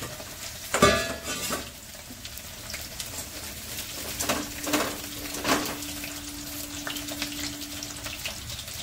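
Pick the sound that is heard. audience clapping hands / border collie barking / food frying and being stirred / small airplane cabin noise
food frying and being stirred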